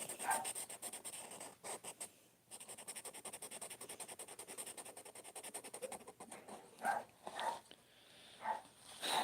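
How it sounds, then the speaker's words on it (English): A dog kept outside barks in a few sharp, faint bursts toward the end, over a steady scratchy background hiss and rapid rhythmic rubbing noises nearby. "I do apologize for my dog barking."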